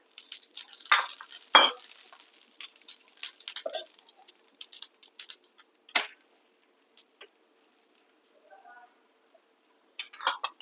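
Rolled fenugreek (methi) paratha laid onto a hot griddle with oil, giving bursts of sizzling and frying crackle, loud at first and then thinning to sparse pops and faint spatter, with a short flare near the end.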